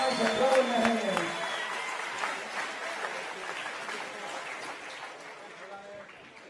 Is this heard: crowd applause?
yes